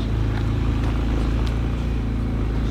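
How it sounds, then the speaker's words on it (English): A loud car engine idles and rumbles steadily with a deep, continuous low drone, close by and alone, with no speech over it. "your car is too loud"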